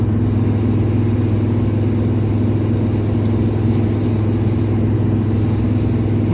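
A car travels along a rural island route near farms and cornfields, heard from inside as a loud, steady engine drone with constant road rumble that holds unchanged throughout.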